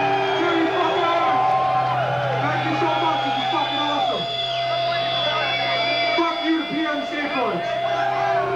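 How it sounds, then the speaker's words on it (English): Live concert crowd at a metal show cheering, whooping and shouting continuously and loudly, a dense roar of many voices with rising yells, no distinct claps standing out. "give a fucking round of applause for yourselves for being here"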